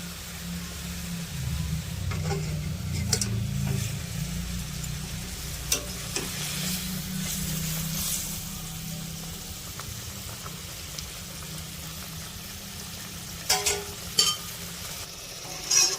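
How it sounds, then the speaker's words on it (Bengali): Fried spiny gourd (kakrol) pieces go into a simmering curry for a kaliya, giving a steady low sizzle and bubbling with a few stirring clatters and scrapes, moderately loud and continuous with no talk. "এবারে ভেজে রাখা কাপড়গুলো দিয়ে দেবো"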